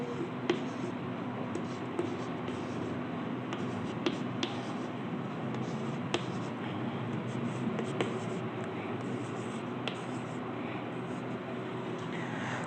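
Chalk or marker writing on a board during a Hindi-language chemistry lesson on electron subshells, heard as a steady scratchy texture with occasional sharp taps over a constant room hum, with no speech.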